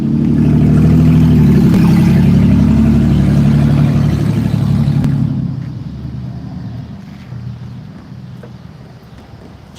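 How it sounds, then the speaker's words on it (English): A Ford Mustang passes trackside at a railway location, its engine a loud, low rumble that peaks early and then fades away as it moves off. "Here comes a Mustang our way."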